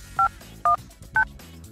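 On a Polycom VVX desk phone, three short keypad dialing tones sound at an even pace. Each is a clean electronic beep, and faint background sound runs beneath them.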